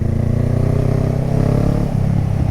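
A newly bought motorcycle pulls away, its engine droning loud and close with a steady low rumble that rises slightly in pitch as it gets moving.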